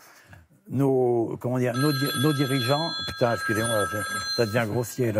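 A mobile phone rings during a French TV interview, a sustained electronic ringtone sounding through most of the stretch beneath a man's continuous, animated speech.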